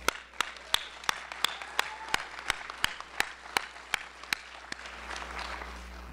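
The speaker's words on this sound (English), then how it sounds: "Please applaud yourselves." Applause at a medical school white coat ceremony for an entering class: an audience claps in a hall, with several sharp prominent claps standing out over a steadier crowd patter, moderately quiet and fading after about five seconds.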